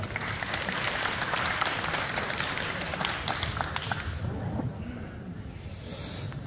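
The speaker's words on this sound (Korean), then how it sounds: "큰 박수로 환영해 주시기 바라겠습니다." Applause from a crowd welcomes the mayor at the opening of the 2022 first Pocheon national open table tennis tournament, sustained dense clapping that tapers off toward the end.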